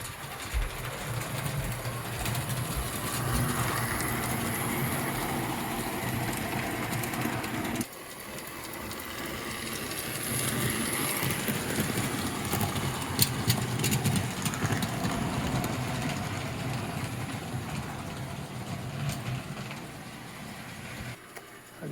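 A restored 1948–1950 #350 model train engine runs along its track with a continuous whirring motor hum and rail clatter, a brief break near the middle, then running on with faint clicks, near and fairly loud, with no talking.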